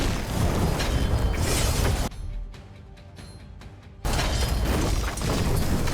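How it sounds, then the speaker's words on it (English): A grenade explodes in Achilles Survivor, a bullet-heaven roguelite game: a dense, loud roaring blast that drops to a quieter rumbling lull, then surges back to full force. "A grenade of ours."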